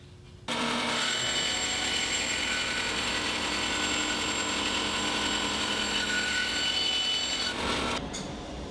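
Power saw slicing a thin sliver off a laminate scrap disc for guitar rosette rings, a loud, steady high whine starting abruptly, holding for about seven seconds, then cutting off and winding down.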